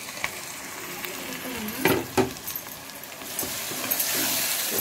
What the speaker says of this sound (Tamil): இந்த ஸ்டேஜில் நம்ம தக்காளி கலக்கிறோம்